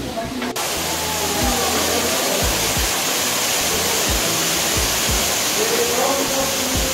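Golden Waterfall inside Gwangmyeong Cave in Gyeonggi-do, Korea: a steady, loud rush of falling water fills the cave, with footsteps thudding underneath and a brief click at the start.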